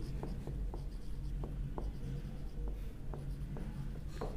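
Writing on a board during a math lesson, with a steady series of short scratchy strokes under a constant low background hum and no speech.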